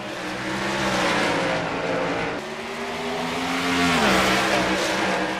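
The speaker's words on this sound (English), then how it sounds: "Here they come through turn 4. Green is in the air for heat race number 3." Chevrolet race cars accelerate hard out of turn 4 at the start of a heat race on an oval, a loud sustained engine roar with pitch sweeping up and down as the pack passes close by.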